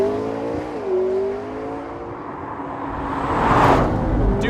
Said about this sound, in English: find a straight bit of road, downshift a gear or two,